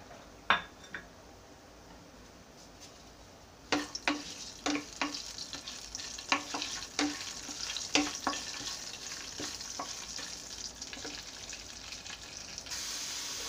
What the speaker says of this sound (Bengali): এবার আমি প্যানে এই জিরার গুঁড়ি, দারচিনি, এলাচ, লবঙ্গ সবগুলো ঢেলে দিচ্ছি।